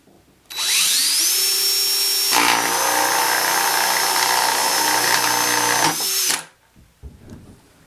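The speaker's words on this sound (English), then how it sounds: "going to use a 3/4 inch drill bit" A power drill with a 3/4 inch bit whines up to speed and runs steadily, pitch shifting as it bites into a maple tree trunk, then spins down and stops.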